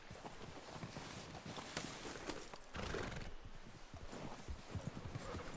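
A White Arabian horse in a cowboy game snorts and whinnies while its hooves clop steadily along, a faint and continuous patter with no talking over it.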